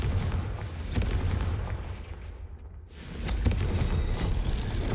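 Confringo fire spell blasts during Hogwarts Legacy combat, heavy booming bursts like artillery fire with a rumbling roar that dips briefly and then returns with further sharp impacts, loud and close, no voices.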